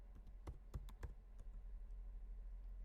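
Keys on a computer keyboard are tapped out in a short burst of close, crisp clicks while a web address is typed into a browser, followed by a few scattered lighter taps over a low steady hum.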